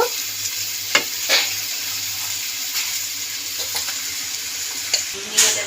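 Grated papaya and boiled chickpeas are stirred into oily spice masala in a hot pan, producing a continuous close sizzle broken by periodic scraping strokes of a spoon.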